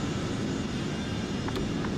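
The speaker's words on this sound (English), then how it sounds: "Look at that, our plane coming in." An airplane coming in to land in Euro Truck Simulator 2 gives a steady, broad engine roar over a low rumble, with a couple of faint brief ticks and no voices.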